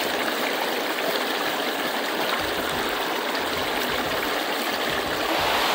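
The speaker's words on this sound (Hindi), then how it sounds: "बारिश भी जोर से आना शुरू कर दिया है" Heavy rain pours steadily outdoors as a dense, continuous broadband wash, loud and unbroken throughout, with no voices.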